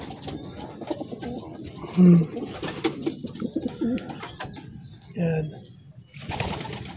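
Pigeons coo in low, soft bursts at a loft in Padre Garcia, Batangas, close by and repeated, mixed with wing rustles while someone talks over them.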